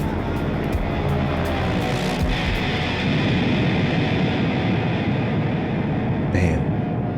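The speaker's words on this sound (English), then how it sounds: "Sounds like a plane." Airplane sound effect from an album, a loud, steady roar of engine noise holding throughout with a brief rising whoosh near the end, no talking.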